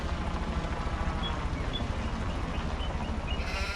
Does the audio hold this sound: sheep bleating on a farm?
yes